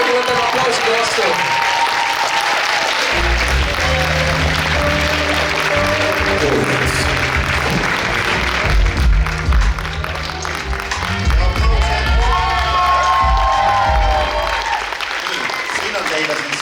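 Crowd at a school dance festival concert applauding and cheering for a dance club's dancers, continuous loud clapping blended with shouts and lively music, with voices rising over it at times.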